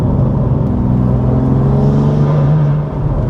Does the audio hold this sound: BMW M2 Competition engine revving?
yes